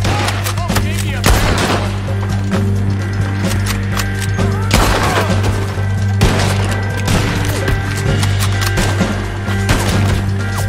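Rifle gunfire from the Red Dead Redemption 2 video game, with repeated loud sharp shots spaced slowly over a steady game background hum, and a few muffled voice sounds in between.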